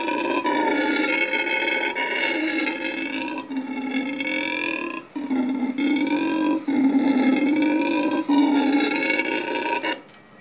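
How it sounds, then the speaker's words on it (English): Red howler monkey calls played from a recording: a loud, continuous roaring howl with deep guttural growls, swelling and dipping in several long bursts over about ten seconds, with no talk. "This is a red howler monkey, but howler monkeys make the same sound."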